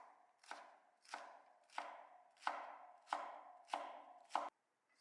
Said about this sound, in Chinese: 葱心和葱绿把它改刀切成小段